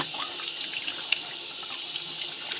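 Water running steadily from a tap in a house with newly installed plumbing, a close, continuous hissing stream with no talk.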